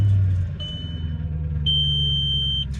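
An Audi A6, built as an S6 clone, rumbles at a low steady idle while a high electronic chime sounds twice.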